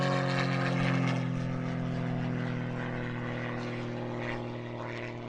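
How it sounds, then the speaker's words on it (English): Cap 232 aerobatic plane with a Lycoming 540 engine at an aerobatics championship, a loud steady propeller drone that slowly fades as it moves away. "our final unlimited competitor, gunning the edge, the Lycoming 540,"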